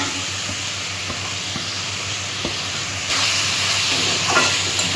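Boiled banana flower tipped into hot oil with spices, bringing a steady loud sizzle and hiss that swells partway through, with faint stirring clicks.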